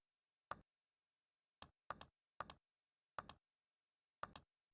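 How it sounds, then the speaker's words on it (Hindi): Isolated clicks on a computer keyboard, about nine crisp keystrokes in small irregular bursts with silence between them, close and clear with no voices. "सबसे आसान तरीका यह है कि यहाँ सिर्फ रैंडम टाइप कर दें।"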